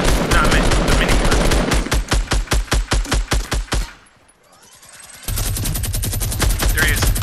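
A minigun fires in the Fortnite video game: a rapid, loud, continuous burst that breaks into evenly spaced pulsing shots, goes quiet for about a second, then resumes as a dense, sustained stream of fire.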